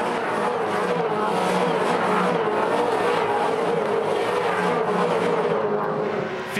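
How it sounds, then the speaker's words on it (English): Supercars racing at the Tasmania SuperSprint, a steady loud roar of several race engines passing together at full throttle for the whole stretch, with no voices over it. "Nothing between the top half dozen cars here at the moment."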